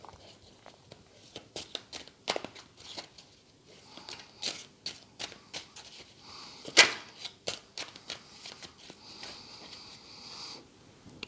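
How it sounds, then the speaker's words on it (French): Playing cards for the board game Star Scrappers Orbital being reshuffled by hand, close and quiet, a string of soft riffles and flicks with one sharper snap midway. "on va remélanger les cartes ici"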